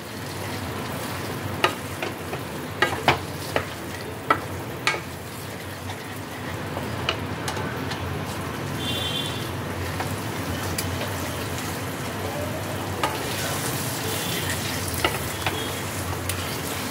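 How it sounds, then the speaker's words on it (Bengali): Paneer bhurji seasoned with garam masala, still slightly watery, stir-fries in a pan with a continuous close sizzle and a handful of sharp spatula taps early on; no one speaks. "এই জলটা যতক্ষণ না টেনে যায় ততক্ষণ একটু ভালো করে নাড়াচাড়া করতে হবে।"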